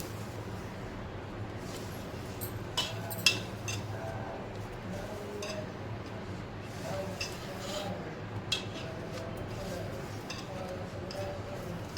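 A spoon stirs leftover dal seasoned with a pinch of asafoetida in a bowl, making faint scattered clinks and soft scraping beneath steady talking.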